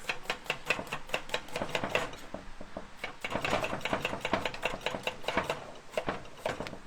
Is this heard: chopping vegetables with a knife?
yes